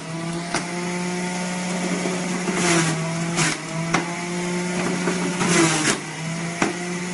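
A motorized fruit juicer runs with a loud, steady electric drone and hum, its pitch wavering slightly as fruit is pushed down, with periodic grinding bursts and clicks at intervals.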